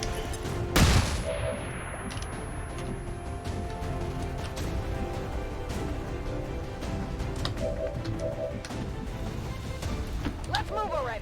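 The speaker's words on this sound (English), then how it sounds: "So Flashbang. let's just preemptively flashbang." A flashbang grenade is thrown and goes off in XCOM 2 Long War of the Chosen, one sharp loud burst near the start with a ringing tail, then steady game ambience, scattered clicks and shots, and voice lines.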